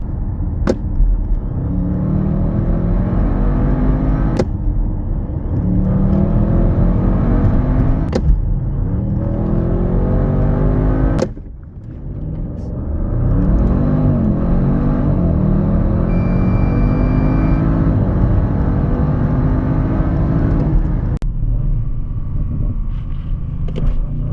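A loud Audi RS6 GT 4.0 V8 engine roars and revs continuously, with several sharp gear-shift breaks and a brief dip before climbing again, up close with no talk.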